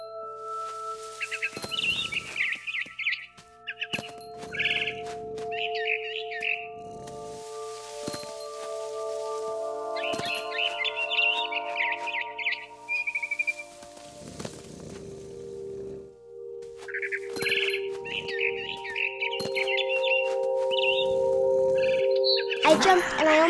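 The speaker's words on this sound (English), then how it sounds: "Then I heard chirping outside my window. It was a barn swallow going back to her nest." Barn swallow chirps in the video game What Remains of Edith Finch, bright twittering bursts repeating in short clusters over sustained ambient game music tones, fairly close and clear.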